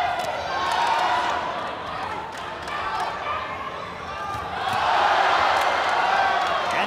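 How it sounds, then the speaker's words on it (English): Kickboxing arena crowd in a bout between Tawanchai and Jo Nattawut, a continuous roar of oohs and aahs that swells near the end, heard under a commentator's voice. "this crowd just loses their minds and goes ooh and ah"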